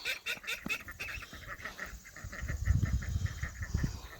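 Call ducks honk in a busy flock, with guinea fowl mixed in, outdoors on a morning beside a garden. Brief repeated calls come first, then a louder, denser stretch of quacking and honking toward the end.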